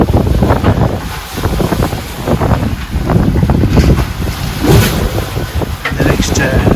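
Wind buffets the microphone aboard a sailboat in a short, lumpy sea, with waves slapping and rushing around the hull in loud, irregular surges and no voices.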